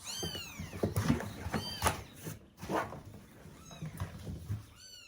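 A cat meowing repeatedly while being fed, several short rising and falling mews close by with soft rustling and clatter of feeding in between, and no speech.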